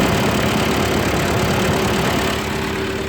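A 1945 Ford 2N tractor engine runs steadily at idle, a loud close rough putter with a constant low rumble and no talk.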